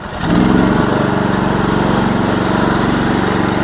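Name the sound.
Briggs & Stratton engine starting on a Chinese mini excavator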